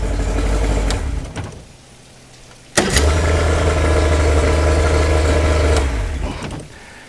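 A Yamaha motor fires up after repair, a sharp start followed by a steady loud running drone up close, settling back down near the end.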